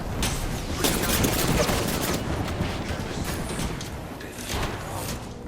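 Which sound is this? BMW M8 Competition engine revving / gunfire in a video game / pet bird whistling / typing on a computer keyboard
gunfire in a video game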